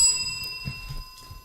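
A small bell, like a bicycle bell, gives a faint, thin high ring that lingers briefly, with soft low thumps underneath and no talk.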